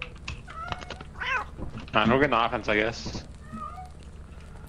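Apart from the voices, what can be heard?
cats meowing in the video game Lethal Company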